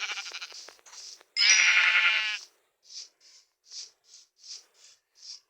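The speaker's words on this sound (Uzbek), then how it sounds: "Naryoqda ham qo'y bor" A sheep bleats loudly and at length, then a string of shorter, quieter bleats follows at a steady pace.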